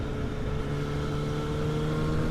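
A Yamaha FZ8 motorcycle engine fitted with an Akrapovic exhaust runs close by with a steady, even droning hum that holds without revving.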